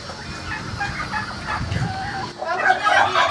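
Cotton chickens, white fowl on a farm, clucking and calling in a steady, moderately near mix, with a louder burst of higher-pitched cackling toward the end.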